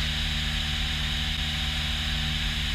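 A light aircraft flying its downwind leg, its engine and propeller holding a steady, loud droning hum with an even pulsing beat and constant wind rush, with no speech over it.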